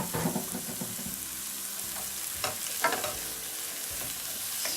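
Cauliflower is dumped into a pan and sautéed in butter, with an uneven sizzle broken by clattering stirring and scraping bumps, close and moderately loud with no voices.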